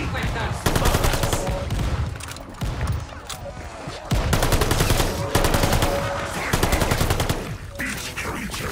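Loud automatic gunfire in Call of Duty: Vanguard Zombies, with several long bursts of rapid shots separated by brief pauses and a little talk between them.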